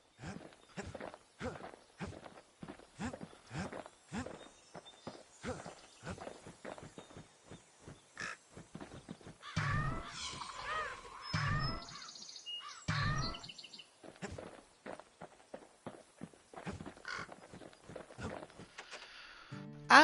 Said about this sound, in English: These birds can breed just about anywhere, can't they?